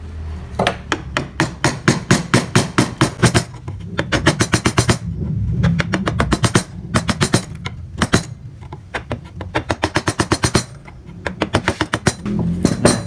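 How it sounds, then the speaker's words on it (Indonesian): A gouge chisel carves wood in a beginner wood-carving session. The tool is struck in rapid bursts of sharp, close taps that come in rhythmic runs, each separated by short pauses. "Jadi kita jorokkan ke bawah menggunakan pahat penguku."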